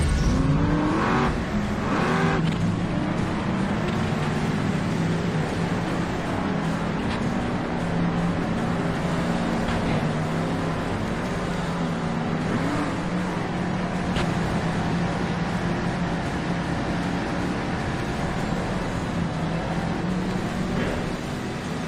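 Monster truck engine in the video game Monster Jam Steel Titans, a steady droning roar as the truck drives down a road, with slight pitch shifts and faint tire noise, continuous and close, no voices.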